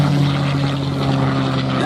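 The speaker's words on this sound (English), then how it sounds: "That particular airplane, courtesy of our friends at the Commemorative Air Force, the Red Tail." A P-51C Mustang propeller fighter of the Commemorative Air Force, the Red Tail, droning loudly and steadily with a strong engine hum and a buzzing tone throughout, a voice talking over it.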